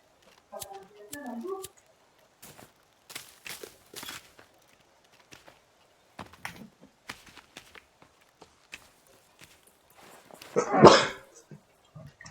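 A single loud sneeze bursts out near the end, close to the mic, after stretches of quiet talk and light shuffling sounds.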